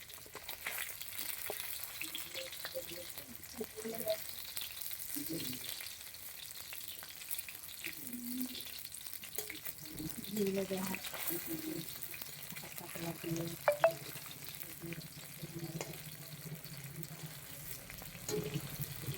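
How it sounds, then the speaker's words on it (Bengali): Pabda fish fry in hot oil in a pan, a soft steady sizzle with occasional crackles and faint clinks, under quiet talking voices in the background. "দেখতে পাচ্ছ মাছ ভাজি করছি।"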